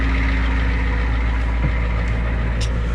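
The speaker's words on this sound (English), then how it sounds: "This engine's very, very loud." A 1985 Ford F-250 diesel truck engine runs steadily at idle, a loud, constant low rumble close by with no talking over it.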